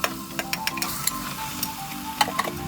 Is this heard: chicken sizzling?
yes